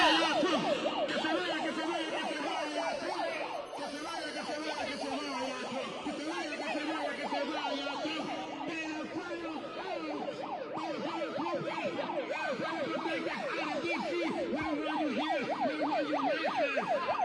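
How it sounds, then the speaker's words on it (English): A wailing emergency siren, likely an ambulance or police car, sweeps up and down steadily and loudly throughout, with faint crowd voices underneath at an outdoor protest. "She's trying to switch to the siren."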